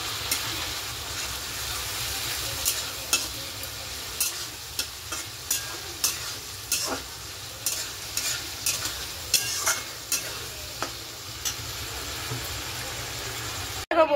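Ghugni masala being stir-fried in a pan, with a steady sizzle under a rhythmic series of spatula scrapes and stirs against the metal, a faint engine-like hum beneath.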